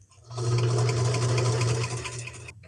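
A sewing machine stitches denim for a pair of jorts, giving a steady, close motorized whir that starts abruptly and runs for about two seconds before stopping.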